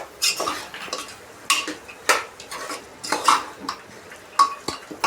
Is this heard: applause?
no